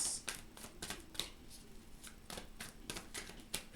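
Tarot cards shuffled in a series of crisp, rapid riffling bursts with short pauses, close and moderately loud, faint background hum underneath.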